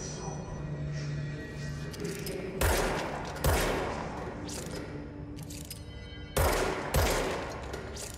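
Gunfire in the video game Control comes in loud, sharp bursts: two big blasts near the middle and two more later, over a busy background of steady rattling fire.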